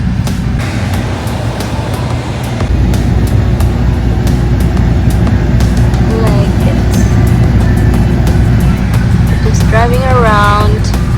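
Car driving on a road trip near Eagle Point Park, a loud, constant low engine and road rumble from inside the cabin, with voices talking over it and a short whistle-like tone near the end.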